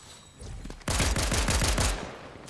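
Rapid SMG and pistol gunfire in a Fortnite match bursts out loud and close, a quick string of shots following a short lead-in of quieter game noise.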